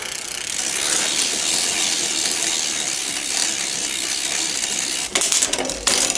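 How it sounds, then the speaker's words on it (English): Aerosol spray hissing steadily across a bicycle front derailleur in a workshop, a continuous close spray for about five seconds, followed by a few brief mechanical clicks and rattles of the bike. "Spray this front derailleur around."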